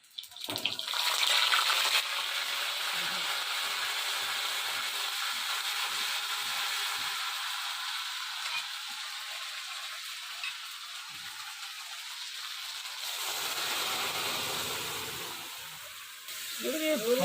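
Dried red chillies and ginger fry in hot oil in a village Bengali kitchen, a loud continuous sizzle close up that eases toward the end, with a voice speaking briefly.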